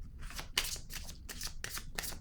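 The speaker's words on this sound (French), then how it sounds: "Je vais déposer une autre carte." Tarot-style cards slide and shuffle in quick, soft papery swishes, about five brushing strokes in two seconds, close up and quiet, during a card reading.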